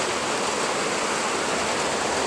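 Water pours steadily into a pan of shells with ginger, making a continuous rushing, splashy hiss from start to finish.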